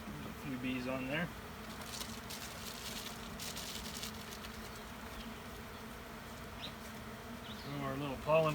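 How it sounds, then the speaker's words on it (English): Steady, dense buzzing of many honey bees close by at an open hive, with brief voices talking near the start and end. "Bees on there."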